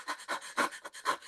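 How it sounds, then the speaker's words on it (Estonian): A person demonstrates rapid, shallow panting, about six quick breathy puffs in just over a second, close and fairly soft with no talk over it. "hakkad kiiresti hingama niimoodi"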